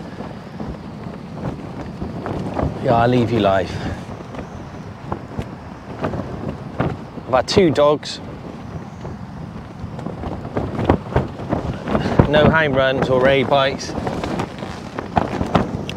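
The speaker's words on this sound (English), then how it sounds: "It's pretty windy." Gusty wind on the Bristol Channel shore buffets the microphone with a constant low rumble, while someone talks intermittently over it.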